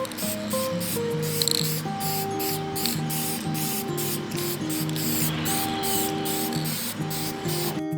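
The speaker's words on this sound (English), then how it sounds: "I'm going to get a coat of spray lacquer on here." A spray can of lacquer hisses steadily and close over a reclaimed wood top-bar beehive part, in short bursts over continuous background music.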